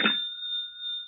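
A telephone bell rings late at night in a 1940s radio drama, a single clear ring that starts with a brief clattering strike and then sustains as a steady, bright tone fading slowly.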